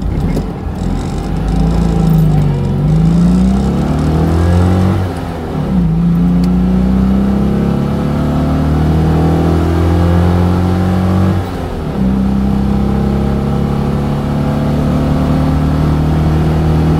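A Mazda 323F drives along with a steady, loud engine drone that rises through the gears in repeated upward sweeps as it accelerates, briefly easing off between shifts.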